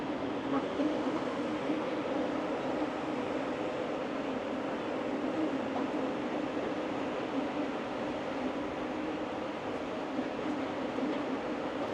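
The Aria Express tram on the Las Vegas Strip gives a continuous, steady rumble of rail transport with an even hum and no breaks, heard from on board or close by in hot weather.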